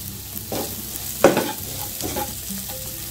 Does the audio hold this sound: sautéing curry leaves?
yes